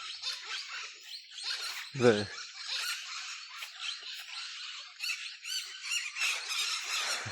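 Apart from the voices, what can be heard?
parrots calling in the Amazon, Ecuador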